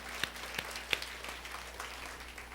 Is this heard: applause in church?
yes